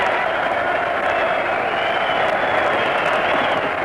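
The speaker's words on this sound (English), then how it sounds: "The crowd surges to its feet." A boxing crowd roars as a heavyweight champion is knocked down for the first time, a dense, steady wall of cheering and clapping that holds at full strength without letup.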